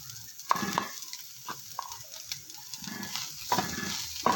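Mashed potatoes go into a hot pan with coarsely crushed dried coriander and get stirred, giving soft intermittent sizzles and scraping taps from the spoon, fairly quiet and close.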